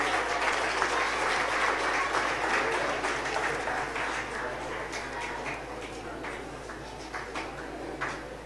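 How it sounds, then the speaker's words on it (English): Sustained audience applause at a school annual day event, with dense, steady clapping throughout, fairly loud and continuous, with faint voices mixed in. "Please give a big round of applause, ladies and gentlemen."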